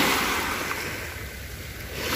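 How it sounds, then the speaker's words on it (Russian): Sea waves wash onto a beach in a steady surf roar, with a gentle swell in loudness at the start and end and some wind noise, no voices. "Вот такое море."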